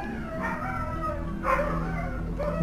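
Dogs yip and whimper in short bursts in Brawl Stars over a steady electronic background, with a couple of sharper barks near the end.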